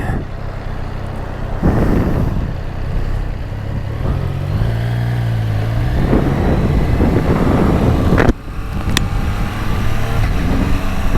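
A 2022 Triumph Trident 660 motorcycle pulls away from a green light, its engine note rising and shifting through gears under steady wind and road roar, with a sharp knock near the end.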